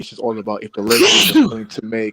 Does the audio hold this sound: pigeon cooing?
no